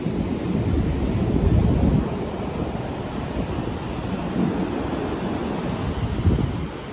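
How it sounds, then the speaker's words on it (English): Ocean waves washing over rocks on the coast of Madeira near Paul do Mar, a steady loud roar of surf and wash with wind buffeting the microphone, no voices. "Waves just carrying it over."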